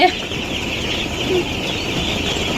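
Broiler chicks on a poultry farm cheeping, with short high calls over a steady background hum in a brooding shed.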